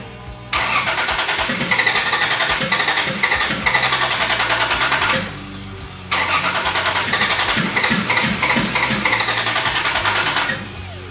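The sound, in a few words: car engine cranking and trying to start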